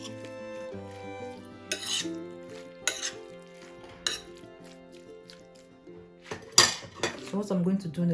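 Seasoned beef with cilantro and bay leaf being stirred in a pan: scattered clinks and scrapes of a utensil against the metal, fairly close, with a faint sizzle and some voice in the background.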